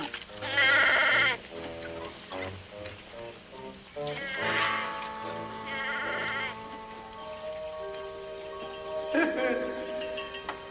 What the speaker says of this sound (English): The meanest goat in 6 counties.